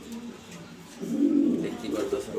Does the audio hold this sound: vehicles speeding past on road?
no